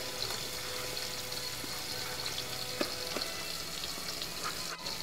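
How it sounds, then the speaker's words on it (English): Brown rice goes into a hot pan and sizzles, a steady frying hiss with small clinks and stirring scrapes, fairly quiet and alone without talk. "So we're gonna add some of the brown rice into the pan."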